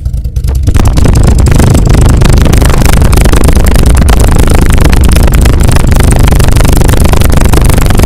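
1980 Fiat 2000 Spider with a 5-speed manual and a throaty aftermarket exhaust, running loud and close with a continuous, dense engine and exhaust roar and no speech.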